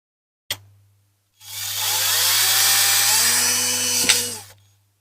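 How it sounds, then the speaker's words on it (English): A small 5/64-inch (1.98 mm) drill bit bores through a rivet on a Corgi Toys Commer diecast toy truck being restored. A sharp click comes first, then about three seconds of steady, close, high-pitched motor whine over a low electrical hum. "Sorry, can't quite direct that drill onto there."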